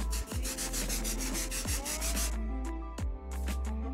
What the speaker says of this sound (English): You can really hear that plastic sack just crinkling around in there.